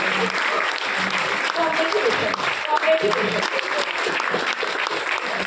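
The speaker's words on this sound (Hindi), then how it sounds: "एक बार जोरदार तालियां" A crowd at a live sales-training seminar claps loudly and continuously, a dense wash of applause with no break, with a voice audible over it.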